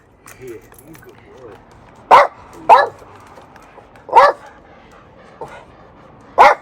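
A dog barks several times in separate sharp bursts, fairly close, with quieter whimpering and background sounds between barks.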